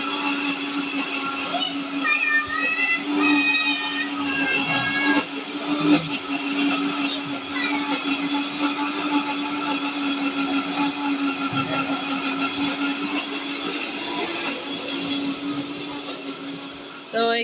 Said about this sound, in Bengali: এখানে ব্লেন্ডার করা হইতেছে ঈদের জন্য